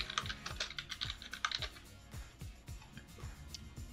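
Rapid typing on a computer keyboard while entering a web search, close and clear, with quick irregular bursts of key clicks and heavier thumps of the space or enter key, no talking.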